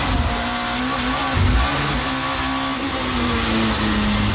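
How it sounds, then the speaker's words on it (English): Alfa Romeo touring car engine droning steadily on a race circuit, a continuous close mid-pitched roar with slight rises and dips in revs, no voices. "Listen to him, he's keeping the engine running"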